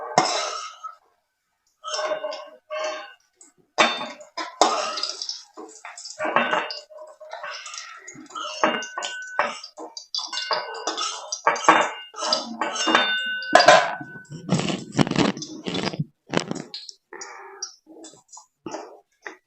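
Fried food, sim paturi, being lifted onto a metal plate, with intermittent clinks and scrapes of utensil on metal, interrupted by coughs and throat clearing.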